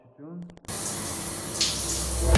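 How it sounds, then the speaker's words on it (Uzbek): A contrast shower sprays water in a steady, close, hissing rush that swells slightly toward the end, right after a brief spoken word. "Kontrastli dush."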